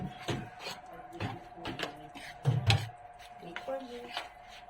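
Whisking tortang dulong egg batter in a bowl, a series of quick scraping and clinking strokes against the bowl, close and moderately loud, with no talking.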